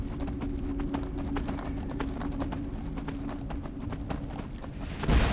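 Horse hooves clip-clop in Skyrim, with steady, even hoofbeats from one ridden mount that run throughout and then a louder thump at the very end. No one speaks.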